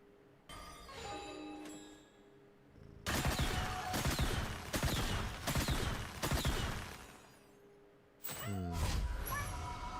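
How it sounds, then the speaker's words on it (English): Fireworks effects in the League of Legends video game: bright crackling bursts and sparkling pops in rapid, dense volleys, with a quieter chiming start and a final burst, loud and close. "fireworks sounds are just inherently pleasing to the ear"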